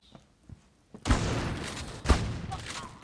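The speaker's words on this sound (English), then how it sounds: "No, I'm using shotgun." Shotgun blasts in a first-person shooter game: two heavy booming shots about a second apart, each trailing into a rumbling decay, with faint taps before the first.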